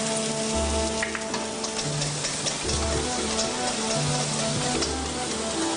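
Sliced persimmon fruit, later mixed with beaten egg, fries in a pan, a steady close sizzle with bubbling crackle and faint stirring scrapes throughout, no one speaking.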